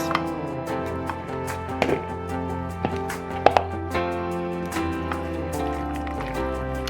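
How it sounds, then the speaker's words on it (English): Food being stirred together with sauce in a dish at home while an oven preheats, giving soft, wet squishing and scraping with a few sharp clicks of a utensil against the bowl, close and steady over quiet background. "So I'm just gonna mix it all up"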